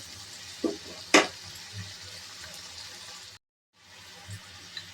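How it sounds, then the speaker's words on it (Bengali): Spice paste with a splash of water fries in a pan over a medium-low gas flame for a tangra catfish curry, giving a soft, steady sizzle with a few stirring clicks and a brief dropout. "মশলাটা একটু কষে নেব।"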